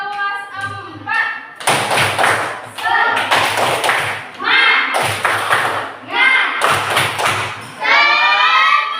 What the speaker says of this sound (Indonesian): Tepuk semangat kelas 4.